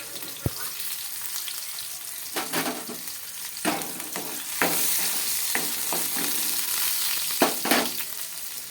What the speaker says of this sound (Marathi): लसूण टाकून घेतल्यानंतर त्याच्यामध्ये मी अद्रक आहे तेही कट केलेलं आहे तेही याच्यामध्ये मी ॲड करत आहे आणि आपल्याला परतून घ्यायचं आहे